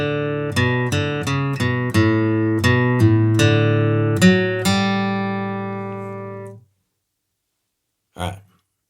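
Acoustic guitar flatpicked in bluegrass style, playing measures 13 and 14 of Arkansas Traveler: a quick run of about a dozen crisp picked notes, close and clear, ending with a ringing final note and a brief strum after a pause.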